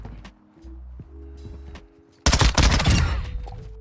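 Loud, dense burst of automatic MP5 fire in a first-person shooter video game erupts midway, rapid cracks packed together for over a second, after quieter in-game hum and footsteps.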